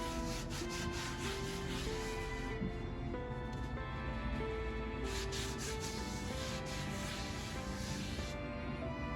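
A cloth or towel rubs continuously across a cast iron pan, producing steady close scraping and wiping strokes.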